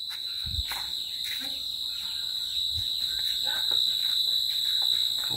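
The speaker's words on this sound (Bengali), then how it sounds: "ঝিঝি পোকারা ডাকতে আরম্ভ করেছে অলরেডি" Evening crickets near a village pond keep up a steady, shrill, continuous chirping throughout, with a few faint scattered background noises.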